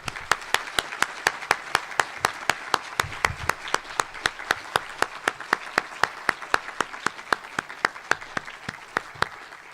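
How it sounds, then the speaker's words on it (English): Steady, evenly spaced claps ring out at an 8th grade promotion ceremony, a sparse rhythmic applause for teachers continuing alone for about ten seconds. "So let's give them an energetic round of applause."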